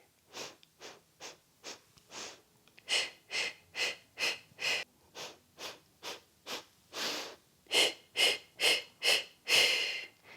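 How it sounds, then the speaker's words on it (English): Rhythmic pulsed breathing during the Pilates hundred exercise, a long run of short sharp breaths in even beats that grow louder and closer as the sequence goes on. "Feel the benefits of pulsing the breath and really connecting to that breath work."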